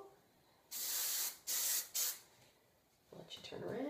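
Hairspray sprayed onto a pinned ballet bun in three loud hissing bursts, one long and two shorter, close up, followed by faint rustling.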